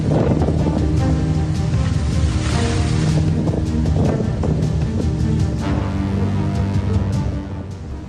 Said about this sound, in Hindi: तेज हवाओं और समंदर में उफान मारती लहरों की वजह से